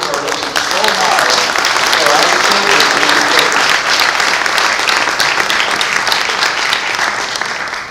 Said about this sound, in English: Can I start out with a little round of applause for those people who are working so hard